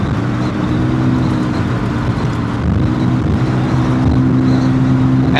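A BMW E36 328i with an exhaust leak, driven on a chilled cruise: a loud, steady engine drone with strong low harmonic tones and a raspy roar, continuous throughout with no talking.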